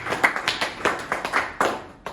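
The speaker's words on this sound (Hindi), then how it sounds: "एक बार ताली बजाइए" A small seminar audience claps in a sparse, uneven burst of separate handclaps, close and moderately loud, fading out after about two seconds.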